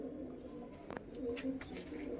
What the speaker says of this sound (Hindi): एक सफेद कबूतर है ये रहा भाई